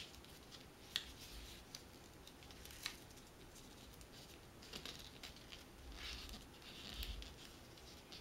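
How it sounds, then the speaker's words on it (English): Paper being folded for an origami horse, with quiet close rustling, soft crinkles and a few sharp crease snaps scattered irregularly over a low background hiss. "What we're going to do next is we're going to go ahead and fold in these side folds"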